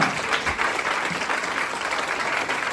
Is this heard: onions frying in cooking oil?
no